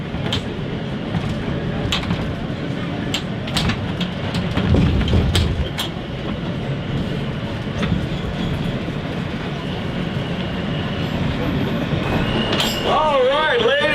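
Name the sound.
subway train passing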